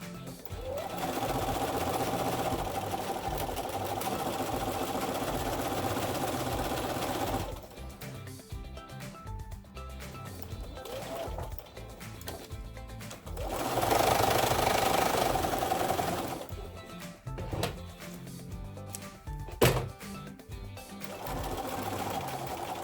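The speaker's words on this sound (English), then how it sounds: "Put a pin in it, and I'll take it over to the sewing machine." A sewing machine stitching fabric, a fast steady mechanical whirr running in long bursts that stop and restart, close to the microphone with short pauses between runs.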